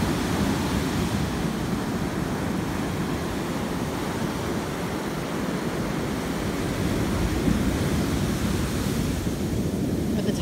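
Ocean waves roll onto Jacksonville Beach at sunrise as the tide comes in, a steady, full wash of surf with wind noise and no talking.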